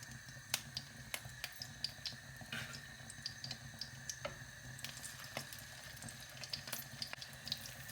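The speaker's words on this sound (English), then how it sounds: "we're going to lower our patties into the hot oil" Patties sizzling in hot oil in a pan, a steady fine crackle with scattered sharp pops and spits, fairly quiet and close, with no voices.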